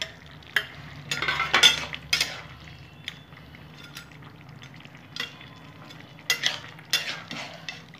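Snakehead fish pieces go into a bottle gourd curry cooking in its own released water, with a soft simmering sizzle and several scraping stirs of a spatula against the pot, close by and without talk.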